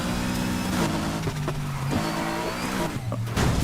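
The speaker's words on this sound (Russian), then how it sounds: "Вспомнить звук вот этот вот мощности BMW M3." A BMW M3 engine in the racing game Need for Speed Heat runs loud and steady, with gear shifts and revs rising and falling throughout, heard alone without any voice.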